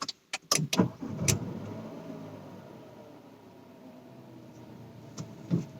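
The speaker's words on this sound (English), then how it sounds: "Now let me just start this engine to check out its NVH and overall feel." A Nissan Kicks BS6 manual, top-spec XV Premium, is started with a few sharp clicks and a brief crank, then settles into a quiet, steady idle heard up close.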